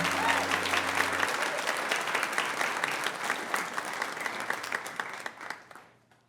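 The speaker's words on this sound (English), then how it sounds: "you don't have to clap for a long time" Audience clapping for a live music performer: dense, sustained applause that holds steady for several seconds, then thins out and fades away at the close.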